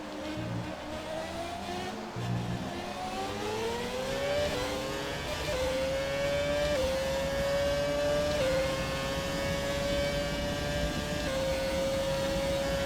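Red Bull RB6 Formula 1 car racing in F1 2017, a high engine whine climbing through the gears and holding a steady scream at speed, loud and continuous with no talk.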